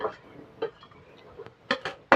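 Sautéed ingredients are scooped from a pan into a mixer jar, heard as a few sharp metallic clinks and taps of spoon against metal, spaced out over a couple of seconds in a quiet kitchen.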